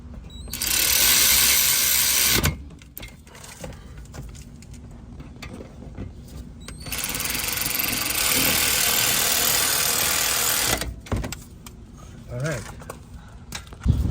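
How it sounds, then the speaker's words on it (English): A power tool drives in the caliper bracket bolts on a 2010 Honda Accord brake job, two long loud whirring bursts of a few seconds each, with a mechanic's voice heard in the gaps. "you can use your auto tools, which make the job just a little faster"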